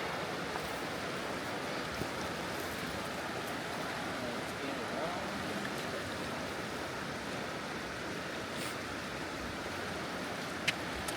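Fast-flowing river rapids rush in a dense, steady roar throughout, constant and fairly loud with a few faint knocks, a fishing spot in mid March.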